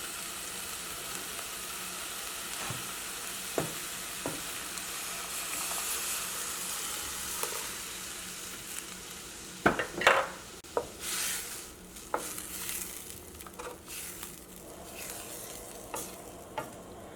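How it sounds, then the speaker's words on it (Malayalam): Curd mixture goes into hot tomatoes in a pan for Kerala-style moru curry, giving a steady close sizzle with a spoon scraping and clicking against the pan, busiest around the middle. "ഇതിലേക്ക് നമുക്ക് ആ തൈരിൻ്റെ മിക്സ് ചേർക്കാം."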